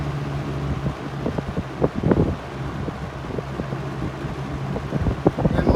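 A vintage 1979 Lakewood P-237 electric fan runs on medium, giving a steady whooshing hum with a low motor drone and some buffeting of air against the microphone.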